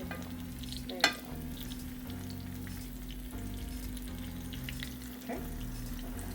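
Chocolate chip French toast fries in a hot pan with a steady soft sizzle and hiss, one sharp clatter of a utensil early on, a low hum running underneath, no talk.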